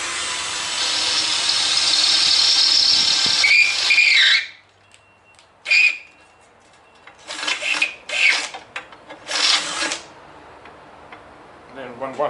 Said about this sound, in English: So I just drill it.